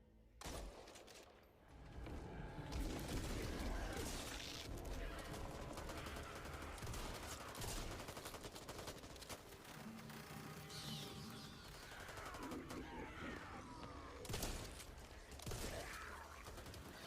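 Video game gunfire during foot-controlled play, with bursts of rapid shots and mechanical clicks mixed into a busy game soundscape while someone talks over it.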